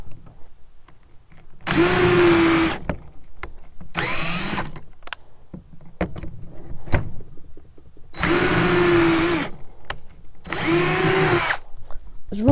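A drill fitted with a 1.5 bit bores holes in a wooden plank while building a simple outdoor table. Four loud, whining bursts of drilling are separated by quiet pauses filled with scattered handling clicks and knocks.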